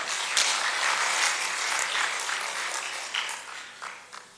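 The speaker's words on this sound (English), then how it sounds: "They deserve a heavy hand clap." An audience claps in a hall at the closing session of a national early childhood care and education symposium, a steady wash of many hands applauding that slowly thins out and fades to scattered claps.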